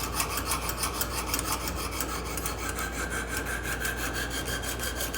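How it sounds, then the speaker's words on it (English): Rapid rasping strokes of a coarse diamond hone from a Lansky sharpening system drawn along a knife edge, a steady, close scraping rhythm running throughout with no talking. "This is that Lansky diamond sharpening system that I really, really like."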